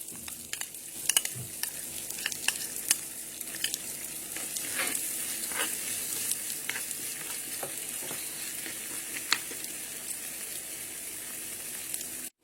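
Mustard paste stirred into a hilsa curry in a pan, giving a steady, fairly loud sizzle and frying hiss with scattered crackles and small spatters throughout, no voices.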